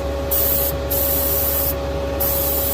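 Spray gun applying paint to the body of a 1969 Dodge Charger R/T, a steady continuous hiss with a few brief pauses in the spraying, close and loud with no talking.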